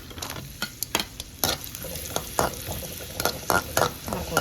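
Raisins sizzle steadily in a pan for rava laddu, with repeated scraping stir strokes breaking through the frying hiss.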